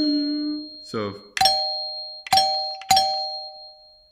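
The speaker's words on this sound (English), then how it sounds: "When you press the doorbell button, it goes." Doorbell chime with a solenoid striking two metal bar plates: three clear, ringing metallic strikes with sustained tones, heard near and loud after a brief spoken word.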